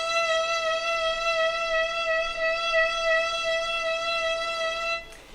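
A single sustained bowed string note with arm vibrato holds steady and clear for about five seconds, rich in even overtones, then stops abruptly.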